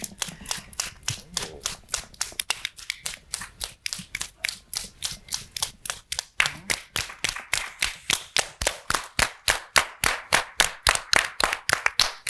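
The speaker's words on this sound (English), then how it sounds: "it's called the rain clap" An audience at a financial services conference performs a rain clap: rapid, evenly spaced claps that start soft and scattered and then swell into loud, crisp, rhythmic clapping.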